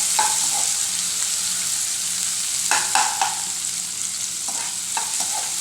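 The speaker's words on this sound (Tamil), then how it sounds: "வெங்காயம் ஒரு 2 வெங்காயம், நல்லா வதங்கணும்." Onions sautéing in a pan for a Sunday non-veg dish hiss steadily, with a few scraping stirs of a spoon close by.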